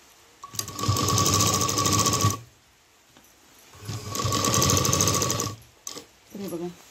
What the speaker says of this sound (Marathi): इथे सुद्धा डबल शिलाई करून घ्या तुम्ही.